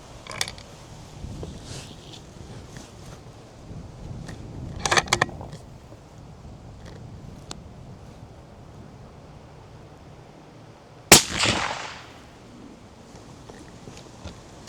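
A .338 Lapua Magnum rifle fires through a Dirty Larry silencer outdoors, one sharp, loud report late in the clip after stretches of wind and faint handling noise.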